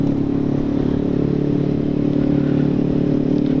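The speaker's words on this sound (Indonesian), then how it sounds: "Pakai knalpot brong tuh enak ya di gasnya tuh ya." Yamaha NMAX scooter with an open brong exhaust running with a loud, steady, throaty drone, held close and alone without talk.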